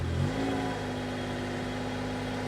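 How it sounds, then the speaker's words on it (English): A 1973 Porsche 911E air-cooled engine cranks briefly and catches, then settles into a steady, close idle that holds alone without talk. "We'll go ahead and fire it up here."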